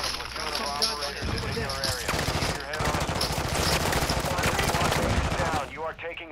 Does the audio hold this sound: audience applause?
no